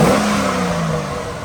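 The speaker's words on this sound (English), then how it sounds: "We got a freaking running Corvette, baby." A stock Chevrolet C6 Corvette V8 idles up from a rev, its smooth engine drone falling gradually in pitch, close and steady with no talk.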